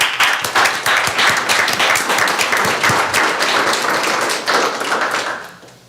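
Audience at a school board meeting breaks into steady applause, dense close clapping that holds for several seconds before tapering off at the end.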